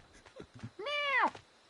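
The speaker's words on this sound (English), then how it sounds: "Hey, there's that cat." A cat in the video game Tales of Arise gives a single clear, rising-and-falling meow, preceded by a few soft short sounds.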